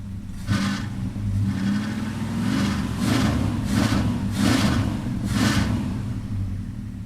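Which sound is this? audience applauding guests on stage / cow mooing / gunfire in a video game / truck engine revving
truck engine revving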